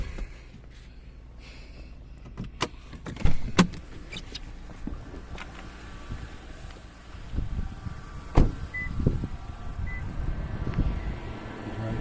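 A Lexus GS250's bonnet being opened: a few sharp clicks and clunks of the catch and hood, with soft handling noise and a light thump later on, close by and without talk.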